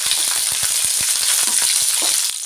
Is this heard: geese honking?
no